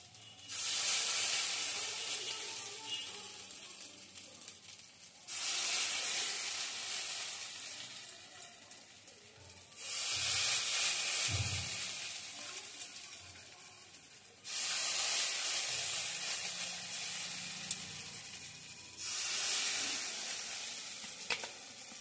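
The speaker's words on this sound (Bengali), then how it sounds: "আবারও আমি অল্প একটু তেল দিয়ে দিলাম। আগের মতনই এইভাবে করে আমি ভেজে নিচ্ছি।" Green banana peel frying in a little oil in a pan, a loud, close sizzle that swells and fades in repeated waves every few seconds.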